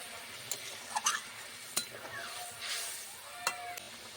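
Pieces of fried fish going into a simmering mustard curry for a Bengali fish jhal, with a few sharp clinks and scrapes and a soft bubbling sizzle, close by and with no talking.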